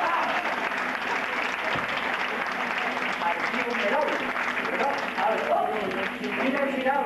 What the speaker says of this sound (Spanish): un aplauso para esa chica